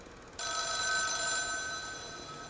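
A ringing telephone in The Town of Light game cuts in sharply after a short pause, a clear, insistent ring that stays prominent and slowly eases in level; nobody speaks.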